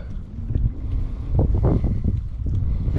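Strong gusting wind buffets the microphone with a heavy low rumble, continuous and close throughout, with faint water sounds beneath, on a reservoir while fishing from a canoe.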